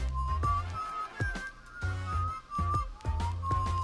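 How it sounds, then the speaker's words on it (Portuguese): A sustained whistled tone, a sharp whistle passing through water, wavering in pitch over rhythmic low thumping music in the video game Heartbound. "Um assobio afiado passa através da água."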